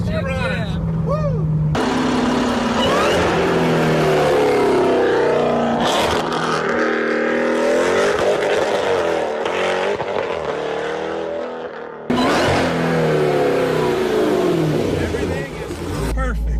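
A 1000 HP Trackhawk engine revs hard and accelerates up close, pitch climbing through gear changes with loud roaring pulls and brief cutoffs between.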